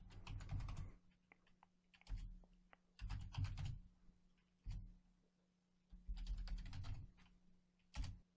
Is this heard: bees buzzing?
no